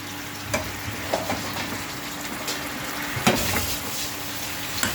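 Small koi fish sizzle in oil with fenugreek greens, a steady close frying hiss with a few sharp spatters and pan taps, heard alone without speech.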